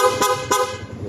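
Stock horn on a Yamaha Sniper 155 motorcycle, given two short, loud honks in quick succession, close by, with nothing else sounding.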